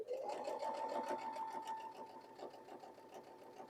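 A sewing machine stitches a quilt block for flying geese, running along a quarter-inch guide in a steady continuous whir that hums for several seconds, close and moderately loud, slowly easing off toward the end.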